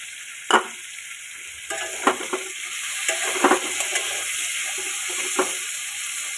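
Green chillies fry and sizzle with browned potatoes and onions in a pan, a steady close-up hiss punctuated by several sharp scrapes and clatters of stirring, with no talking.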